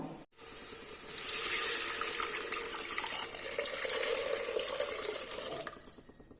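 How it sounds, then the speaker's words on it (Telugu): Five glasses of water pour steadily into a pressure cooker for pongal, a continuous close splashing gush lasting several seconds before it stops. "ఈ నీళ్ళని కుక్కర్లో వేసుకుందాం"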